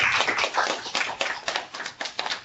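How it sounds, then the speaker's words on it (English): A classroom of calculus students gives a round of applause, a steady patter of many hands clapping close by for a couple of seconds, no speech over it. "Give everyone a round of applause."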